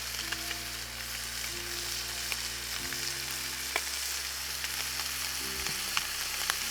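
Popcorn crayfish sizzling in butter with garlic in a hot pan, a constant close crackling fry with faint pops and a low steady hum underneath, no speech.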